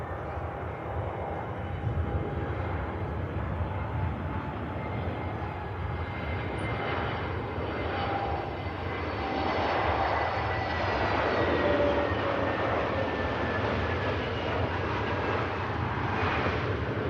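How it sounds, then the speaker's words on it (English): Egypt Air A321neo landing at Manchester Airport, a faint, distant jet roar with a thin high whine that builds slightly as it nears, continuous and without talk. "we've got the Egypt Air about to land, I believe. Oh, very nice. A321neo"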